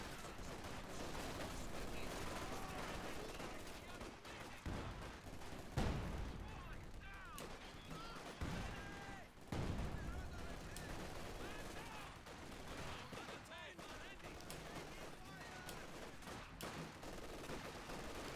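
LMG Grenadiers machine gun fire in a World War II strategy video game, a dense, continuous rattle of gunfire with heavier bangs mixed in, running under a commentator's voice throughout.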